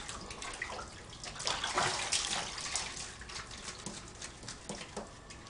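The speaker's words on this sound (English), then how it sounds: "Getting a jacuzzi bath." Running water in a jacuzzi bath where a dog is being bathed, a steady rushing and splashing wash that swells in the middle, close and moderately loud with no clear voices.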